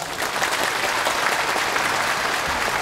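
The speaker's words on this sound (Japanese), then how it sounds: "もう皆さんのこの拍手あったかいですね。" Warm audience applause fills a stage-drill show by a police music band, with a dense, steady wash of clapping throughout and no talk over it.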